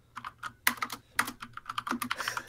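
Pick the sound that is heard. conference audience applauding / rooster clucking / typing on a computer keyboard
typing on a computer keyboard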